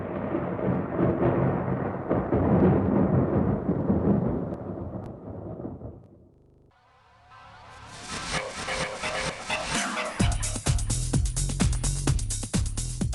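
Thunderstorm over a valley during a 1999 paragliding championship, a long low rumble of thunder rolling for several seconds, then a loud hissing burst of rain and wind with crackling cracks.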